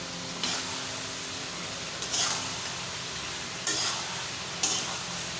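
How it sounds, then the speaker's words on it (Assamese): Sizzling of meat and potatoes frying in a pan, with a few distinct scraping stirs of a spatula at irregular intervals; no voices. "এতিয়া খুব ভালকৈ লৰাই থাকিম সন্ধিয়ালৈকে, মাংসখিনি অলপ আলুখিনি অলপ নিসিজালৈকে মই ভাজিয়ে থাকিম।"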